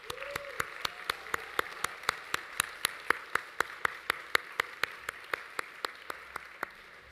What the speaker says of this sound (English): I think we can give them a big round of applause.